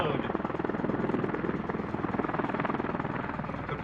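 An MV-22 Osprey tiltrotor flies in full helicopter mode during a Marine Air-Ground Task Force demonstration at Iwakuni Friendship Day 2018, producing a steady, loud, rapid rotor thumping that carries on throughout.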